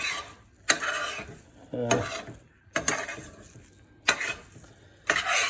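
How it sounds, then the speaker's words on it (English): Crab spring roll filling being stirred through with oyster sauce and soy sauce, a few distinct scraping strokes against the pan at a steady rhythm, close and fairly loud, with no talking. "And stir that through."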